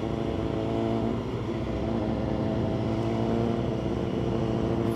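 Steady, close engine drone from a BMW S1000 RR ridden through Dakar, holding an even pitch and level throughout with constant wind rush and no voices.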